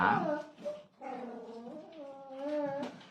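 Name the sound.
dog barking and whimpering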